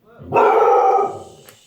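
A dog lets out a single loud, drawn-out bark close by, with a howling tone, as a mailman comes to the door inside a home.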